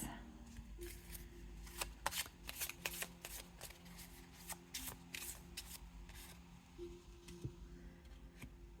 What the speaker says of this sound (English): Let's pick some cards today.